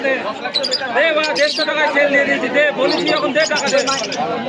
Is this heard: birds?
yes